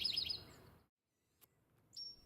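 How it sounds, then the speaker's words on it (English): Eastern towhee, a large sparrow, calling outdoors: a faint, short burst of high chirps, then a pause, then a single distant note, all over quiet background. "The eastern towhee is a large sparrow that's a true short-distance migrant."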